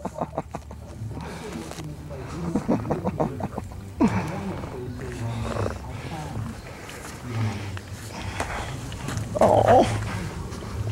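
Young puppies just being weaned yip, bark and whimper close by in a mix of short, irregular cries, with a person speaking briefly over them.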